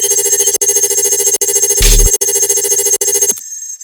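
A synth sustain bass with delay effect on 4, feedback 17 and 26% dry/wet holds a loud, bright pulsing tone with brief dropouts and a short low thump in the middle, then cuts off near the end; no speech.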